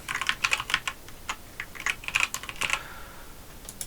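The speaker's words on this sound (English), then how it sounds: "So I'm going to type in my first name here. And I'm going to type in my second name." Typing names into an Excel gradebook on a computer keyboard: rapid, close keystrokes in quick irregular bursts with brief pauses, and no voices.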